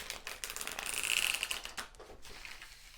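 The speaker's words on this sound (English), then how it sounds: "But first, while I'm shuffling" Tarot cards being shuffled by hand give a quick run of crisp, close clicking and rustling that swells in the middle, then tapers off.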